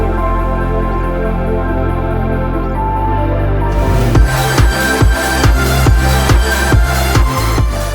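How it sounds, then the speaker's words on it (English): Electronic song built entirely from Serum white noise, sustained pitched noise pads opening, then a punchy beat of regular kick-like thumps and hits joining halfway, loud and continuous. "I made a song with just white noise"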